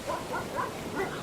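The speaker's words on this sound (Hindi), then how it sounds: "उसे अपने पीछे भागते हुए कुत्तों की आवाज सुनाई दी।" Faint dogs bark and yelp in quick, uneven bursts, somewhat distant, over a steady background noise.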